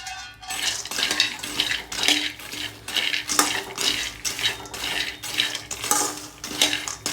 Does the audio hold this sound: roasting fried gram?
yes